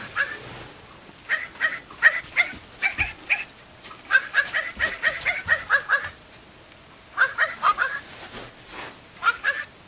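A barking cloth Christmas toy dog barks in rapid bursts of high, yappy electronic woofs, pausing briefly between volleys, loud and close.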